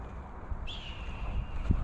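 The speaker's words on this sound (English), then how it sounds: "Classic screech of a hawk." A thin, drawn-out high screech from a hawk by a river sustains for about a second, faint and distant against a low outdoor rumble.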